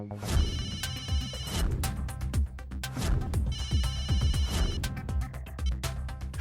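A telephone rings in bursts, a bright trilling bell repeating in two clear rings with a busy clatter of background noise in between, moderately close.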